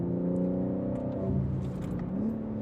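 A BMW M3 G80 with a Milltek single midpipe and OPF delete rumbles steadily with a deep exhaust note, rising slightly in pitch near the end as it revs, close and continuous.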